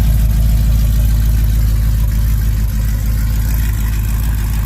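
A supercharged Ram with a 392 Whipple engine idles through a custom true dual exhaust, a loud, deep, steady rumble with a throbbing low pulse and no voices.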